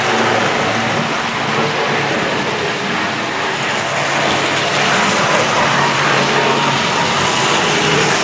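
Several Hornby Triang Mark II model railway coaches running together on track with pre-profiled wheels, giving a steady, continuous loud rolling wheel rumble and hiss throughout, with no talking.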